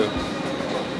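A train rumbles and clatters at Reading station, a steady, close, continuous rail noise with no talk over it.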